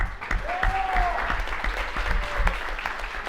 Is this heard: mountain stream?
no